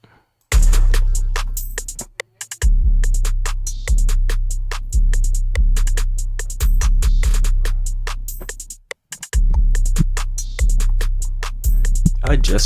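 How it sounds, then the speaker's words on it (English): Hip-hop drum pattern from an underground beat: heavy kick and 808-style low hits with crisp hi-hats and snares in a steady looping rhythm, loud and upfront, with a brief dropout near the start and another around nine seconds. "I can show you the drums, which sound like this"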